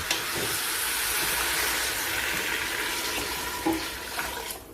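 Clear water poured into a cooking pot, a broad steady rushing hiss that stays loud and even throughout, with a few faint clinks near the end.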